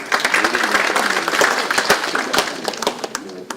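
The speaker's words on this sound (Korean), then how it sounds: "큰 박수로 환영해 주시기 바랍니다." An audience claps to welcome a speaker, a loud, fairly close burst of many hands with distinct sharp slaps in the mix, fading slightly toward the end.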